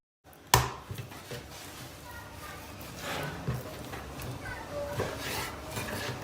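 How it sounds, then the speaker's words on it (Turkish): Knife strikes on a cutting board while chicken is cut into cubes, starting with a sharp hit, followed by busy kitchen clatter and scraping with some talking in the background. "Tavuğumuzu kuşbaşı doğrayacağız."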